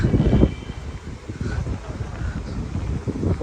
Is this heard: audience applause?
no